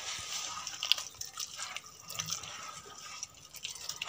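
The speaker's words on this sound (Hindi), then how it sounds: "मैं इसमें थोड़ा सा पानी डालूंगी" Water trickling and dripping as it is poured into a flour batter, light splashy drips and a thin liquid stream at close range, fairly quiet, with no talk.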